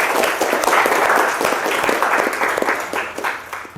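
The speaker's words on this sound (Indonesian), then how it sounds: "kasih tepuk tangan buat kita semua." A classroom audience clapping together after a lecture, a loud dense burst of applause that holds steady and then tapers off toward the end.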